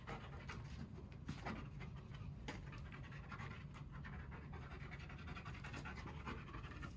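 A police dog panting while searching during a canine brigade exercise, rapid breathy huffs continuing without a break over steady outdoor noise, close but fairly quiet.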